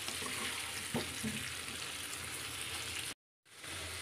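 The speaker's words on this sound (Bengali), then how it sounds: "তো বেশ সুন্দর করে আলুটাকে আমি ভেজে নিচ্ছি লাল লাল করে।" Potato pieces fry in a pan for a vegetarian dam alu, giving a steady, close sizzle and crackle with a small clatter near one second. The sizzle cuts out briefly near the end, then resumes.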